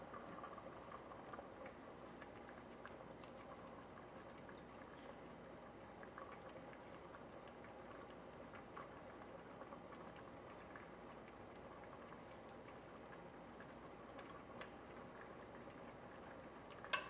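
Minestrone soup with pasta simmers at a slow rolling boil, giving a faint, steady bubbling hiss with soft scattered pops and no talking throughout.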